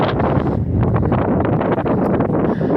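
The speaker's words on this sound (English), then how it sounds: "I hope the wind's not too bad." Strong wind buffeting the microphone outdoors on a farm, loud continuous low rumbling gusts with rustling, no talk.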